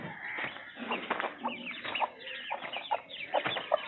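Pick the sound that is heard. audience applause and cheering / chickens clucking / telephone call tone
chickens clucking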